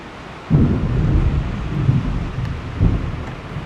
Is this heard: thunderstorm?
yes